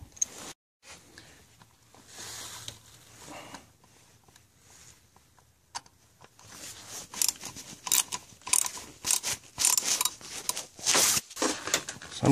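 A bottom star bolt on a Mercedes thermostat housing is tightened with a ratchet, giving a loud, close run of quick metallic clicks and clacks in the second half after quieter tool handling.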